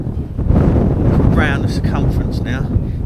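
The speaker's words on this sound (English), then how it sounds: "As you can probably hear, it's really flipping windy." Strong wind roars and buffets the microphone in heavy low gusts while a person speaks over it, outdoors at Wallasea Island nature reserve near dusk.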